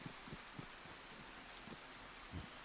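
Steady rain falls in a video game, a dense, even hiss with faint low patter and occasional soft thumps, continuous and moderately quiet throughout.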